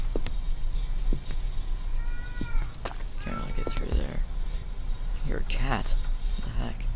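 A cat meows several times in a spooky horror game, short rising and falling cries among scattered game sound effects over a low hum, with a voice talking briefly.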